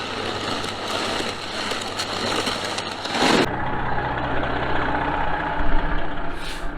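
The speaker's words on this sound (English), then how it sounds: "Green truck's running, had a frozen brake" A green farm truck's engine runs steadily at idle, a loud low rumble with a brief burst of hiss midway, then settles into a steady drone.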